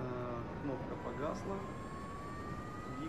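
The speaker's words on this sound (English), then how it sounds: "The turbine is spinning up." A MiG-21Bis jet engine in the Prepar3D flight simulator spools up, a steady turbine whine with rising tonal lines over a low rumble, moderately quiet and continuous.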